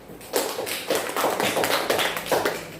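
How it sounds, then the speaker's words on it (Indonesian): Classroom applause from students, a burst of hand claps rising quickly and continuing steadily for a few seconds, fairly close and moderately loud, with no talking over it. "Oke, tepuk tangan."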